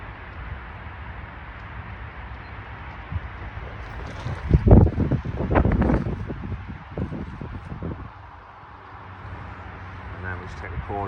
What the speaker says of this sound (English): It's quite windy out here today